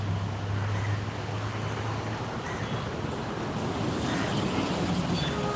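A vehicle passes along a road, heard as a steady, broad rumble of traffic noise that holds at an even level for several seconds. Nobody speaks.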